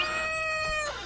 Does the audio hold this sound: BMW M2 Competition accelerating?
no